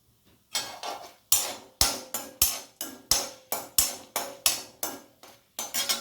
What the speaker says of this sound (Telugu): పోపు బాగా వేగాలి.